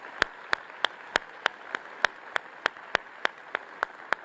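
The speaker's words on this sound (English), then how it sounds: "Let's give a big applause for her." Sparse, evenly spaced hand claps ring out one at a time at a steady pace from an audience at a talk, moderately loud against quiet room tone.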